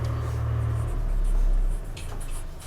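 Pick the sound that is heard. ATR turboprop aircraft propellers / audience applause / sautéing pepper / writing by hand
writing by hand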